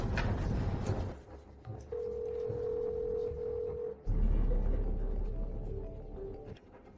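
A telephone rings with steady electronic tones. A long tone sounds in the middle and shorter tones follow, fairly loud and with no talking.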